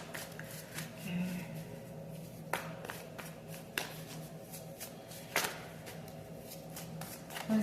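Tarot cards shuffled by hand nearby, with soft riffling and several sharp snapping riffles spread across the clip, quiet and with no talking.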